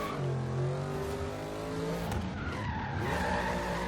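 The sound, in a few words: Hellcat Jeep SRT drifting, tires skidding, from video game Forza Horizon 3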